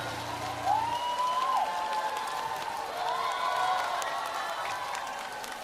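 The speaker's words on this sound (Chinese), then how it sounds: "把热情的掌声先送给海蓝木， 送给姚小桃。" An audience at a televised singing competition applauds and cheers performers with a steady wash of clapping, while tonal singing-like vocal phrases rise over it.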